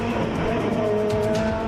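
A 1990s BTCC touring race car screams past at high revs, its engine a loud, sustained, tonal wail with faint tire noise underneath.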